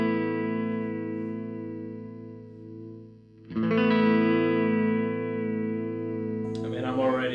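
Sustained electric guitar tones through a Uni-Vibe effect pedal with a swirling, pulsing modulation, a new chord struck midway, close and fairly loud.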